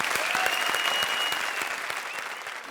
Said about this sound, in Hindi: इन टीम्स के लिए जोरदार तालियां प्लीज।